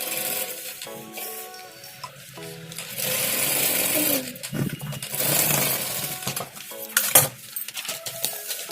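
Sewing machine stitching paper onto blouse fabric, a fast rattling run that starts and stops, with clinks and handling noise in the pauses.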